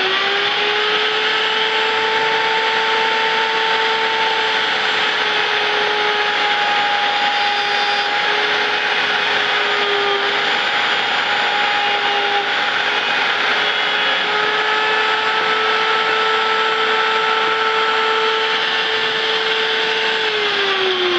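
A horizontal slot mortise machine used for Festool Domino joints runs on wood with a steady, loud motor whine that holds an even pitch and barely changes for about twenty seconds.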